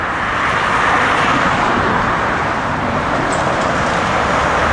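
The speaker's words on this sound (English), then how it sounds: "Here's all the cars on 190th Street." Heavy car traffic streams along 190th Street in a continuous loud roadside roar of passing vehicles, with no breaks and no voices.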